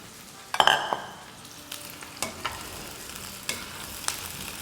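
Potatoes and medium-cut potato pieces with onions sautéing in a pan for keema biryani, with a soft, steady sizzle broken by a few sharp clinks and scrapes from stirring.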